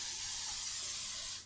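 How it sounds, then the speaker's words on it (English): Nonstick cooking spray hisses onto a cookie sheet in one continuous burst that stops abruptly. No one speaks. "I'm just going to spray it with nonstick spray."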